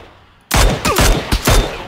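Gunfire from a firefight in the battle royale game PlayerUnknown's Battlegrounds: after a quiet start, a burst of four sharp, loud shots rings out close by, evenly spaced, with no talking.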